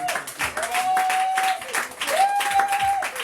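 A church congregation applauding to acclaim the Lord, with steady crowd clapping and a long, high sustained vocal tone running over it twice.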